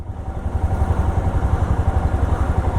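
Motorcycle engine running steadily on a group bike ride in Ladakh from Sissu to Leh, a loud close low rumble with continuous throbbing pulses and no talk.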